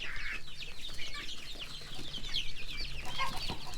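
Several chickens cluck and chatter nearby in quick, overlapping bursts, with a low steady hum underneath.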